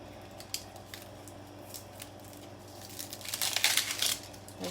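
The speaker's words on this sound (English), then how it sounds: "right now I'm cutting up onions" A knife cutting up onions for a cast iron shepherd's pie: soft scattered taps and crisp slicing noises, thickening into a denser burst of crunchy cuts near the end, close and fairly quiet.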